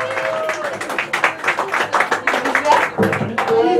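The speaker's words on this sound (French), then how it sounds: "On peut encore les applaudir." An audience at a live DJ event in Rouen applauds in a steady burst of clapping and crowd noise, with talk mixed in.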